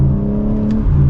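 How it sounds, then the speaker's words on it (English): A 2024 BMW M4 Competition's exhaust booms loudly as the car accelerates, a dense low rumble with a rising engine tone heard from inside the cabin in a brief, continuous burst. "You can hear that exhaust when you get on it"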